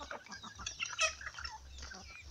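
A young rooster, under a year old, clucks softly nearby in short, low calls, with one sharper squawk partway through, quiet and unaccompanied by speech.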